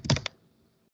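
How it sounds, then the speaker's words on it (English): A few fast keystrokes click on a computer keyboard in a quick burst near the start, close and crisp, then fade to quiet. "Linux habit typing clear command."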